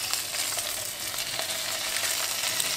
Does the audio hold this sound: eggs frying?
yes